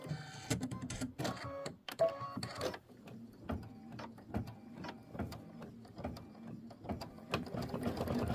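An embroidery machine stitches out a tiny stem or leaf in seafoam thread for a quilt block, giving a steady run of quick mechanical clatter with rhythmic taps, fairly quiet and close, with no talk over it.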